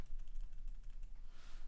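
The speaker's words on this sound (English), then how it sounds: "Now I am typing apply" Someone types on a computer keyboard while entering a command in a MySQL setup tool, producing a quick, steady run of soft, close key taps with no speech.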